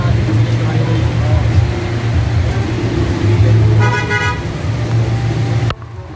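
Road traffic on a rainy trip toward Lucban, Quezon, with engines rumbling and several car horn blasts sounding close by, while people talk over the noise.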